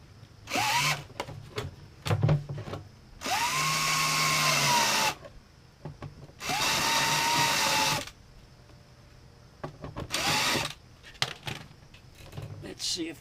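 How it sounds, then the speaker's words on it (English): A step drill bores a hole in a gas can for a conversion, running in several loud, steady whining bursts of a few seconds each, separated by short pauses filled with small knocks and handling noises. "Okay, I'm going to drill a hole."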